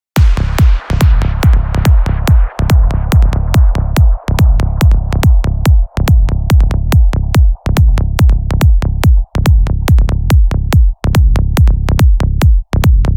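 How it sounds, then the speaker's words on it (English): A Serum synthesizer glide bassline pulses in fast, even repeated notes, loud and punchy, with a sweeping filtered tone underneath. "So the bassline sounds like this."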